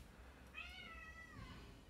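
A pet cat lets out a single drawn-out meow that bends in pitch, near and distinct over a quiet, steady room hum, no voices.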